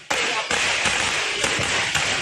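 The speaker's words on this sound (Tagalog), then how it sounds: "Rinig ang nagpuputokang mga paputok." Firecrackers go off at a fireworks factory in Santa Maria, Bulacan, a dense continuous crackle of loud sharp bangs with several stronger pops standing out.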